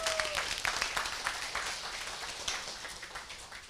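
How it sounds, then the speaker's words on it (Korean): Steady applause from an audience at a business talk, a broad even wash of many hands clapping that holds at moderate level throughout and fades slightly at the end. "오늘 박수를 보내주신 여러분"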